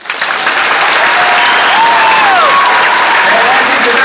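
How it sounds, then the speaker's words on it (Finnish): Audience applause fills a comedy club for the stand-up host, a dense, steady burst of clapping from the crowd lasting throughout, with some cheering and voices mixed in. "otan aplodit itselleni nyt"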